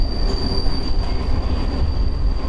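A London Underground train runs with a loud, steady low rumble and a thin, sustained high wheel squeal, close by and continuous with no voices.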